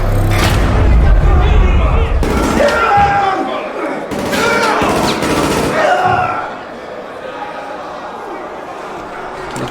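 Gunfire in the video game Call of Duty Modern Warfare 3 bursts in loud clattering volleys and heavy thumps mixed with radio-style speech, the shooting and impacts clustered early and fading to quieter talk and ambience.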